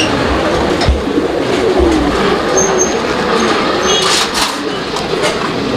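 White Bombay pigeons, large long-bodied birds, coo among a flock, with soft low cooing and wing noise under loud nearby speech in a busy, noisy setting.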